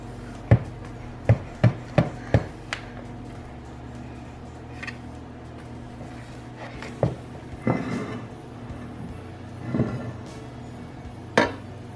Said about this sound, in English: I'm gonna scrape the sides down just to make sure I got all of that